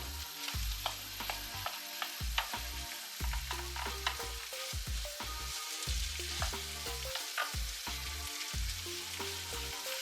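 Cooked meat and mushrooms sizzling in a frying pan as a spoon stirs and scrapes them repeatedly in a busy rhythm, close up, with no speech.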